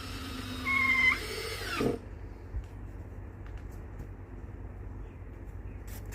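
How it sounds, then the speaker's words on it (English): A power drill runs briefly while driving a single screw into wood for a homemade cold frame, a short rising whine of about a second that cuts off, followed by quiet room background. "So I'm gonna drill 1 screw."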